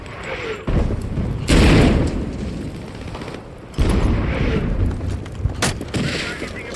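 A frag grenade goes off in a video game's winter-update match. Two loud, rumbling blasts land a couple of seconds apart, each followed by a sustained noisy wash of debris and battle ambience.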